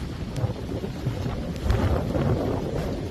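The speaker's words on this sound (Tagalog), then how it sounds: "Daming hangin." Strong wind buffets the microphone outdoors, a continuous low, rumbling roar with uneven gusts and no clear talk.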